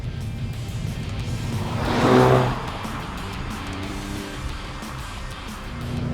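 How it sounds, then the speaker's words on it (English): A 2013 Volkswagen Golf GTI rolls over a poorly serviced road, a steady engine and tyre rumble swelling briefly louder around the middle before settling back to an even drone, with no talking. "I'm driving on a pretty poorly serviced road right now."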